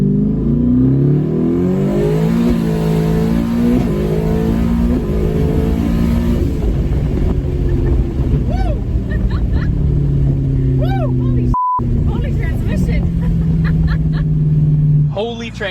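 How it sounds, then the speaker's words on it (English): A Ford F-150 truck engine revs hard under load while the transmission shifts, with the pitch climbing and then dropping at each gear change, heard from inside the cab and fairly loud throughout. "We posted a video on going up for the new horsepower setting, and that transmission was shifting."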